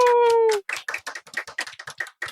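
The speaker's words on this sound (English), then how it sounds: "Round of applause for everybody." A small group in a studio claps in quick, separate, close-up hand claps after a single drawn-out "woo" shout at the start.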